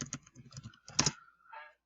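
Bursts of quick keyboard typing, close by, in short clusters with brief pauses, ending in a softer run of keystrokes.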